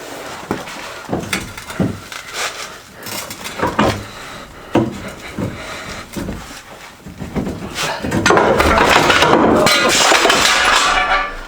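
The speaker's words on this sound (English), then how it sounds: "I dropped the goddamn axle. Hit the ground" A one-ton axle falls during a swap on a Jeep Cherokee XJ, striking the ground with a sharp metallic clank among scattered knocks and rattles of work nearby, followed by a longer stretch of clattering noise.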